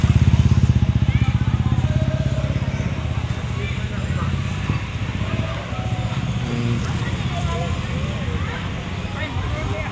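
A motorcycle engine drones close by, its steady rumble filling the scene while voices chatter in the background.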